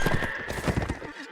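A horse in a team combat video game gallops with rapid clip-clop hoofbeats, followed by a short whinny, close and loud over faint game noise.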